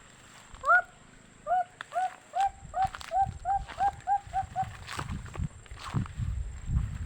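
A bird gives a quick run of about a dozen clear, repeated chirping notes close by, with soft footsteps and rustling underneath.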